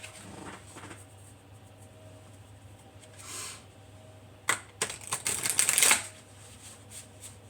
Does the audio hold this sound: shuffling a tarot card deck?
yes